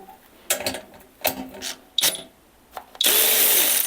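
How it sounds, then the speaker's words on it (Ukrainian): Grösser GTW 280 cordless impact wrench loosening 10 mm bolts, short bursts of whirring and rattling mechanism separated by gaps, ending in a louder sustained buzzing run. "Тут у нас ідуть болти на 10 і от пробуємо їх викрутити."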